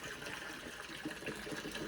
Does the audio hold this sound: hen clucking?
no